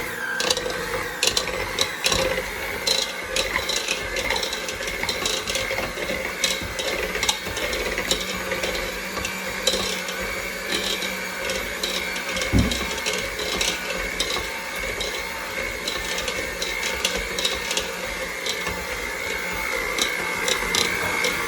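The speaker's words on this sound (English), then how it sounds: "Electric mixer on." Electric mixer running on low speed, mixing churro batter in a home kitchen; a steady, continuous motor whir with irregular scraping and clatter of the beaters against the bowl throughout, no talking.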